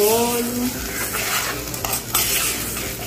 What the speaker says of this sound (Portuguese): Agora eu vou mexer bem para o arroz tipo dar uma fritada e misturar bem o alho